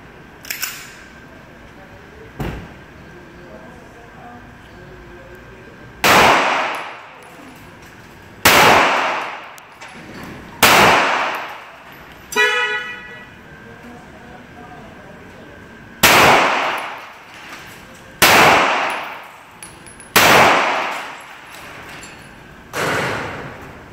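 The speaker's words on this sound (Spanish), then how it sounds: "Me meteré al vehículo a hacer la primera prueba de tiro." Nine sharp, loud 9mm gunshots spaced irregularly, striking an armored vehicle's glass, each ending in a hard metallic impact and brief ringing, with a quieter rapid rattle partway through.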